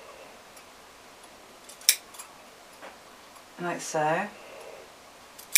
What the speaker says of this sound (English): I'm going to fold this in half and just put a couple of little snips in here